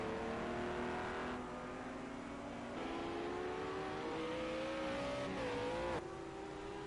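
Race car engines in Project Cars 2 during a European GP round, a loud sustained whine rising and shifting in pitch through gear changes, with several cars droning together continuously and no voices.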